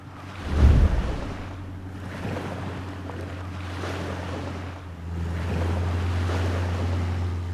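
Surf rolls and breaks on a beach of a Thai island, a steady wash of waves with a louder crash near the start and wind noise over the microphone throughout.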